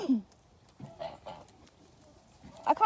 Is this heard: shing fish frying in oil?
no